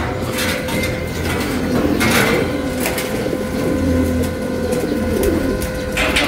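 Pigeons in a newly built loft, cooing and fluttering close by with wing flaps and scattered clattering, a steady busy flock murmur throughout.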